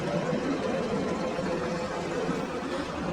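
Car engine idling beside a dispenser at a petrol pump, a quiet, steady broadband hum with no change in pitch before it is switched off.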